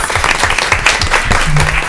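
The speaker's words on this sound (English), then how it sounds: "So just give everyone a round of applause." A school board meeting audience breaks into loud, close applause for administrators and students at the end of the school year, a busy crackle of many hands with a brief voice near the end.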